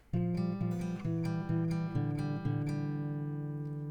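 A short acoustic guitar riff of plucked, sustained notes, about six strummed hits in quick succession, then a ringing final chord fading out, played alone.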